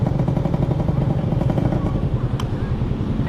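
Motorcycle engine droning steadily while riding, a rough close rumble with wind and rattling throughout and a voice talking over it.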